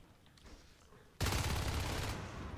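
Rapid automatic gunfire in the competitive shooter Natural Selection 2, erupting suddenly as a loud, dense burst of shots after a quieter stretch of ambient game noise.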